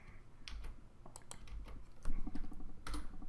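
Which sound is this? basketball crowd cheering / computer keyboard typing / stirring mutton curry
computer keyboard typing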